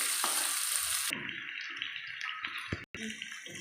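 Garam masala frying in hot oil, a bright hissing sizzle that cuts off sharply after a second, followed by softer crackling and stirring sounds, with a voice speaking faintly.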